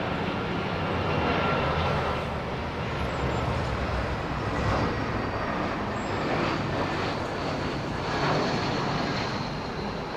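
An Airbus Beluga XL transport plane lands at Heathrow Airport, a broad steady rumble of jet engines roaring continuously without a break, loud and sustained, no voices.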